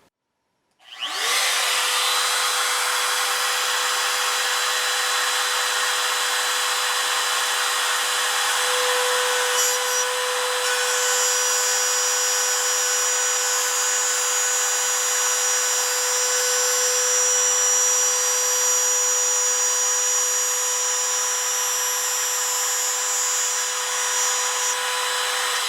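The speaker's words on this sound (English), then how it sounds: "let's go and make a slot right there with the router" A power router cuts a slot into wood, giving a loud, continuous high-pitched whine that starts abruptly and holds steady for the full duration with no talking.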